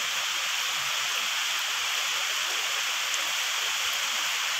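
Steady, even hiss of rain falling in the mountains, a continuous wash of drops with no breaks, moderately quiet and heard alone.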